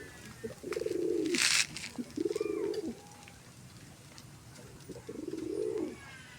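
Racing pigeons give three deep, throaty coos in a quiet setting, each a short rolling phrase separated by pauses, with a brief burst of higher noise between the first two.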